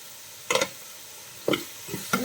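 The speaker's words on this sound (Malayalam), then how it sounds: "നമുക്ക് കുറച്ച് ഉപ്പ് കൂടി ഇട്ട് കൊടുത്തിട്ട് ഇളക്കിയെടുക്കാം" Sliced onions with salt are stirred in a sizzling pan, three distinct scraping strokes against a low frying hiss, close and fairly quiet.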